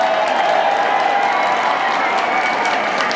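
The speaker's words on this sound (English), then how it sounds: "Well, that cheer you can hear around Lord's" Crowd cheering and applause around Lord's cricket ground during a women's Test match, a broad, steady roar of a distant stadium crowd, continuous and even throughout.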